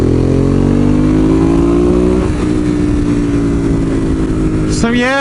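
A Ducati 821 Stripe edition motorcycle engine runs loud and close in sport mode, holding a steady revving drone whose pitch slides slightly down, then picks up again near the end, with no talking.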